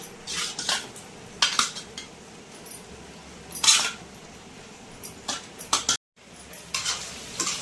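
Mutton lung curry frying in a pan is stirred briskly, with repeated scraping and clinking of a spoon against the metal over a steady sizzle, then a brief pause before stirring resumes; no voices.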